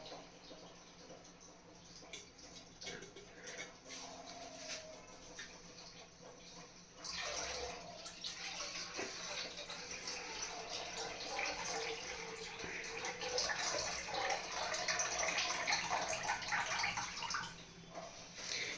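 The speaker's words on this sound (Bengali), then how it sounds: "এবার জলটা ফেলে তো হয়ে যাবে" Water poured out of a washing vessel during kitchen dishwashing splashes as a steady broadband rush, starting quietly and growing louder and denser after the first few seconds, continuing to the end.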